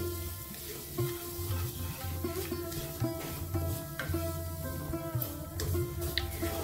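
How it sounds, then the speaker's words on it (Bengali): Semolina poured into hot oil and fried in a pan for a langcha sweet, giving a steady hissing sizzle with scattered scraping and stirring knocks throughout, close and without talk. "তেল গরম হয়ে গেছে, আমি যে সুজিটা নিয়েছিলাম সেটা আমি দিয়ে দিচ্ছি।"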